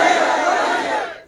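A crowd at a large religious gathering in Punjab shouts slogans in unison, a loud, dense roar of many voices that fades out near the end.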